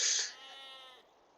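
A sheep in the Age of Empires video game gives one short bleat, clear and close, fading into a faint low hum.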